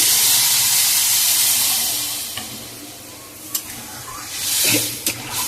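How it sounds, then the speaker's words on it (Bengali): Water goes into a simmering mixed vegetable curry for a rohu fish dish, sending up a loud rush of steam and sizzle that fades, followed by a few sharp clinks and stirring sounds in the pot. "এবার আমি জল দিয়ে দিচ্ছি"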